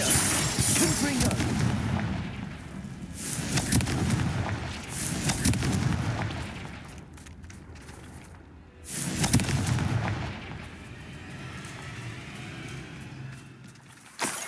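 Confringo explosive spell in the video game Hogwarts Legacy: several heavy, booming blasts in a battle, each with a rumbling decay, separated by short lulls and ending in quieter rumble.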